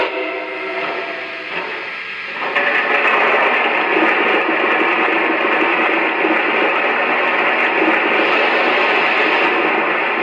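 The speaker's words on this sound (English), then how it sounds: "By pressing and holding the reset button on the legacy remote, we can get the sound of coal being added to the tender." Sound effect from a Lionel 115th Anniversary 2-8-4 Berkshire model steam locomotive: coal being loaded into the tender, a steady, dense rushing and rattling that grows louder after a couple of seconds and keeps going, close and with no voices.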